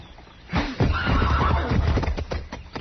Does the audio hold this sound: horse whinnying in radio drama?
yes